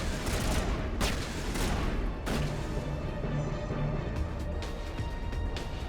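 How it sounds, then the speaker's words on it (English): Gunfire in Mass Effect Legendary Edition, a run of sharp, loud shots and bursts spaced irregularly over several seconds, some with heavy booming impacts. "What are you shooting at?"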